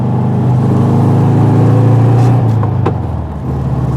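A 1972 Volkswagen Beetle's air-cooled engine revs hard while the car accelerates, a loud close droning whir that rises, then dips briefly near the end.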